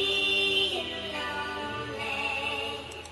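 A cappella vocal sample, pitched up and slowed down, with sustained layered voices holding chords under added effects, steady and full throughout with no spoken talk.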